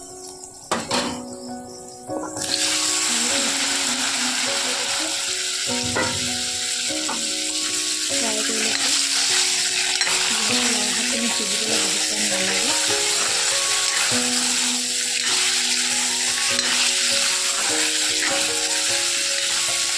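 Potatoes frying in a little oil alongside lai saag mustard greens in a home kitchen, giving a steady close sizzle with occasional utensil clinks and scraping, while faint tonal music-like notes run underneath.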